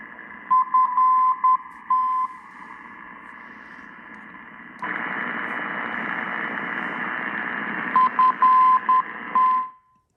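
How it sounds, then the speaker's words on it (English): Constant static hiss from an Icom IC-R9500 or Kenwood TS-890 radio receiver fills the background, jumping louder midway, with short bursts of steady beeping tones near the start and end. "that hiss in the background"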